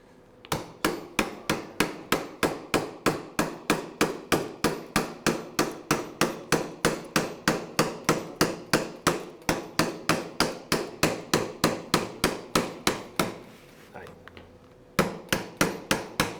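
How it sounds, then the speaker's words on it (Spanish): Steady, rapid hammer blows strike metal in a fast even rhythm during a shoulder rotator cuff surgery workshop on biomodels, pausing briefly before a few more hits resume; loud and close, with no talking. "Dame el otro martillo, tío, que este es muy pequeño."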